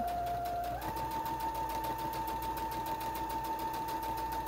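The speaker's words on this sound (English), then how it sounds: "I'm just going to back stitch on the top." A sewing machine back stitches the top of a fabric pocket with a continuous, close, even motor hum and a fast rhythmic stitching patter throughout.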